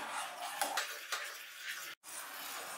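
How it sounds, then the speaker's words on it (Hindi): Custard powder and milk are stirred in a pot on the stove, a continuous soft scraping and swishing with a few light clinks of the spoon, close and quiet, with a brief gap near the end. "इसे लगातार चलाते रहना है ताकि हमारा दूध तले से ना लगे।"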